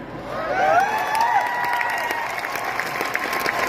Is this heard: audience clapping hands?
yes